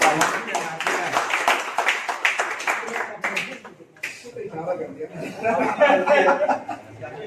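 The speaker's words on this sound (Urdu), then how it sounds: "زوردار تالیوں کے ساتھ" Audience at a poetry mushaira gathering clapping, a burst of loud scattered applause for the first few seconds that fades out, followed by chatter and someone speaking.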